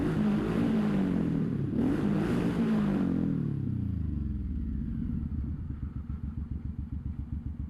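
A big cruiser motorcycle rumbles along, its engine note falling as it slows, then settling into a deep, loping idle with a steady pulsing beat, close and fairly loud.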